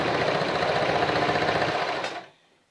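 A Brother XL 3010 free-arm sewing machine stitches in a steady, fast, even whir of needle strokes, running loud and close for about two seconds before stopping abruptly.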